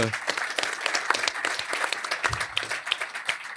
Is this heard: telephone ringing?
no